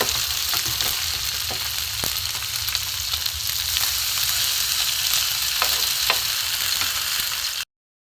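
An egg and Maggi noodle mixture fries on a hot griddle with a loud, continuous sizzle and faint crackles throughout, then cuts off abruptly near the end.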